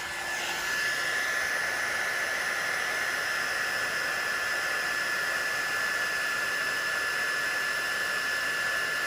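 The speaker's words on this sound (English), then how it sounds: "I can use the heat gun to blow it back onto the collar" A heat gun blows steadily while melting wax onto the collar of a Filson jacket, giving a constant close, even hiss that holds without break after a brief start.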